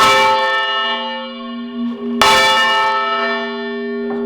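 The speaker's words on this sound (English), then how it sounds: "Wow, listen to the ring afterwards. That's about half a ton of bell" A large church bell of about half a ton rings in a bell tower, struck loudly twice with a rich, sustained metallic hum that decays between strikes, heard alone without talk.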